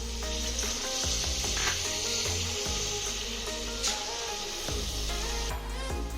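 Tomato goes into a pan of well-browned onions frying in coconut oil, producing a loud, steady sizzle with stirring clatter throughout, no talk.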